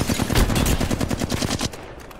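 Rapid automatic gunfire from an Apex Legends match, a loud burst of closely spaced shots that rattles on for most of the moment before cutting off and trailing into quieter game noise.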